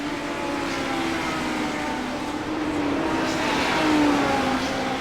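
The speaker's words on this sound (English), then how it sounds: "these legend cars are fun as heck to race" Legend race cars roar around a track in a continuous loud engine drone with a steady tonal whine, swelling slightly as the pack presses on.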